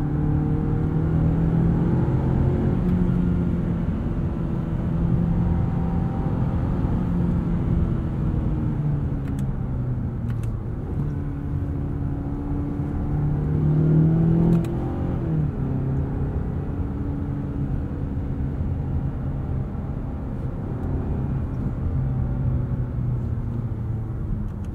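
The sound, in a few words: car engine accelerating and revving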